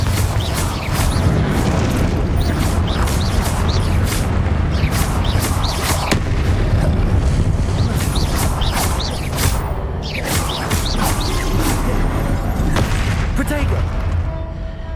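Repeated Confringo explosive spell blasts in Hogwarts Legacy, a rapid series of sharp booming impacts and crackling bursts over a dense, rumbling battle background.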